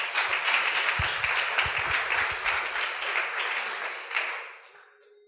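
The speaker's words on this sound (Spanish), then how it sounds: "¿Cuántos aplauden al Eterno?" A church congregation applauds in a broad, dense burst of clapping with a few heavier low thumps near the start. The noise holds steady, then tapers off and fades to quiet at the end.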